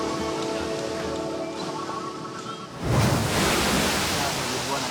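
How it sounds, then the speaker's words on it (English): Ocean surf rolls in at Bali beach, a steady wash of noise that swells suddenly into a louder crashing break partway through. "Nice waves today."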